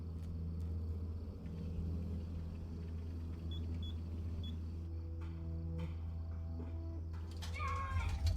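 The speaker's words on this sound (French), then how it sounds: "Les chats qui déménagent les meubles pendant ce temps." Cats shift furniture in the video game Life is Strange 2: a few dull knocks and bumps ride over a constant low rumble, and a cat meows near the end.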